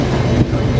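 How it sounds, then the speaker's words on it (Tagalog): Rumble and clatter of a Singapore MRT train pulling into Punggol station, a steady loud low roar with wheel noise, close by and without voices. "nandito na MRT Punggol"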